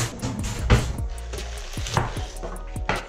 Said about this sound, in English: Let's start chopping this bad boy up.